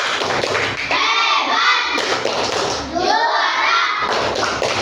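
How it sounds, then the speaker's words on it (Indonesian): Schoolchildren in a classroom performing the rhythmic 'tepuk hebat' clap, a loud group of patterned hand claps mixed with chanting children's voices, close and continuous. "Oke, kita beri tepuk hebat dulu."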